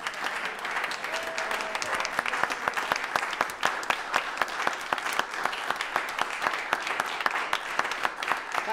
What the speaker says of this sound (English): So please, your warmest applause for Joe Pettitt.